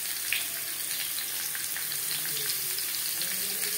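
Potatoes fry in a pan, a dense, even crackling sizzle held steady and close for a few seconds without talk.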